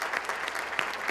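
Audience applause at a county address chamber luncheon, a brief burst of many hands clapping steadily in a room.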